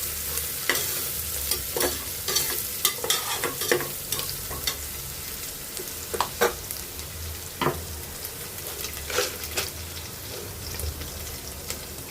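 Garlic fries in a pan of oil for catering-style jeera rice, a close, steady sizzle broken by frequent stirring scrapes and clicks of the spoon.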